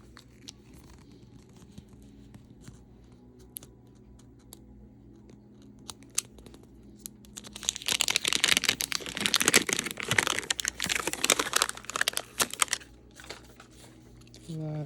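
Paper crinkles and rustles loudly while small toys from a Target haul are unboxed, quiet handling noises first and then a dense, busy stretch of crumpling toward the end.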